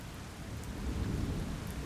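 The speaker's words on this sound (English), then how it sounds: "The rain." Steady rain falls with a low rumble of thunder underneath, a faint, continuous wash of sound with no voices.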